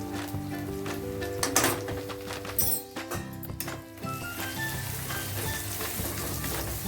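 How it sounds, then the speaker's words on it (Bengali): Gram flour frying with onion, garlic and cumin in a pan, loud close crackling sizzle broken by several sharp clinks and scrapes of a spoon stirring the mixture. "ভালোভাবে বেসনটা একটু ভেজে নিতে হবে"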